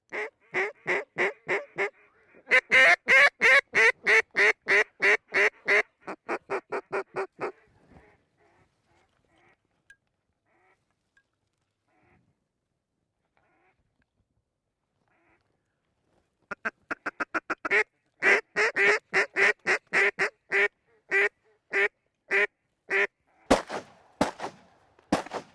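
Ducks quack loudly and close in rapid rhythmic bursts during a field duck hunt in Canada, with a long silent gap in the middle before the calling resumes, punctuated near the end by sharp sudden reports.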